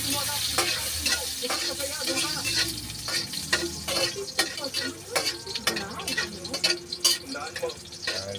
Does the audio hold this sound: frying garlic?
yes